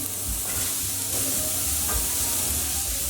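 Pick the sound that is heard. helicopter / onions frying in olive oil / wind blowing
onions frying in olive oil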